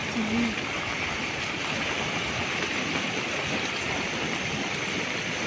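Floodwater rushing after very heavy rain in Tiruppur district, a dense, steady roar of flowing water that stays loud and unbroken throughout.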